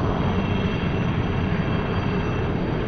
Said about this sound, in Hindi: देखिए एक हेलीकॉप्टर जा रहा है